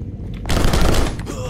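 A burst of rapid video game gunfire in Rocketbirds: Hardboiled Chicken, loud and close, with a voice speaking over it.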